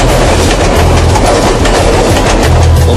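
Train passing along railway tracks in Jakarta, very loud and close, with a continuous rumbling roar and rhythmic wheel clatter sustained for the whole stretch and no speech.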